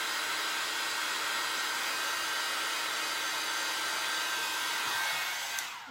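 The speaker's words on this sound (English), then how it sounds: "You could take the heat gun and just heat it up real quick." A heat gun heating a chalk transfer blows with a continuous, loud, steady airy whoosh from start to finish, cutting off right at the end.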